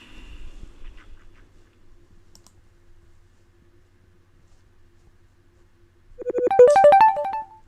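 A phone ringtone for an incoming call rises in a bright melodic burst near the end, loud and alone after quiet clicking and faint background noise.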